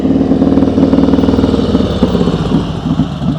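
A motorcycle engine runs loud and close through a slow-speed U-turn during a riding practice session, its uneven throbbing rising and falling as the clutch is worked.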